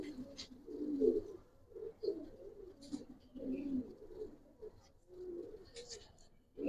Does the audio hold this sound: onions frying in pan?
no